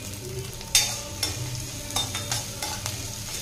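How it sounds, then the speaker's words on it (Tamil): Chopped onions and green chilli sauté in hot oil in a pan, a soft steady sizzle broken by several sharp scrapes and clinks as a spoon stirs them, heard up close with no voices. "வெங்காயம் பச்சை மிளகாய் எல்லாமே கொஞ்சம் நிறம் மாதிரி வதங்கி வந்துடுச்சுங்க"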